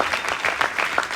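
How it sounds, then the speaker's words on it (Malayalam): Audience applause at an executive business meeting in Kochi greets a Kerala participant taking the stage, a short, steady patter of many hands clapping at moderate volume with a few louder bursts. "കേരളക്കാർ ആര് കയറിയാലും കൈയടി."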